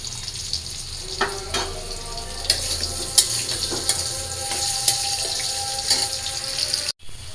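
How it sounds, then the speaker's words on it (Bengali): Onions fry on a stove for tempering dal, a steady sizzle with intermittent clinks and stirring scrapes, close and moderately loud, without talk. "তো এদিকে যে ডাল সম্বার দেওয়ার জন্য আমি পেঁয়াজ দিয়ে দিচ্ছি চুলায়। পেঁয়াজটা প্রায় ভাজা ভাজা হয়ে যেতেছে।"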